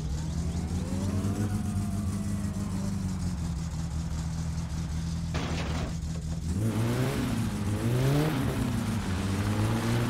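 A Satsuma in My Summer Car, fitted with a new turbo, idles with a steady drone before revving up hard, the engine pitch rising and falling in repeated surges.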